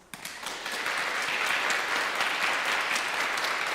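Audience applause at a legislative district candidate forum, steady dense clapping from a sizable crowd that swells after a brief start and holds evenly throughout.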